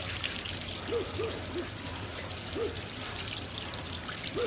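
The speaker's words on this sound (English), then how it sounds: "Let's rinse it all the way through." Cold water runs over a car wheel during rinsing, a steady close pouring and splashing stream with a few faint squeaky tones.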